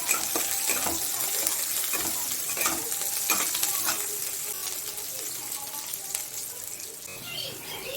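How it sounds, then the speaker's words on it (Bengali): Chopped garlic and a little onion frying in a pan, a steady close sizzle with scraping stir strokes and light clatter, no talking. "এবার রসুন কুচি করা দিয়ে দেব, দিয়ে একটু ভেজে নেব।"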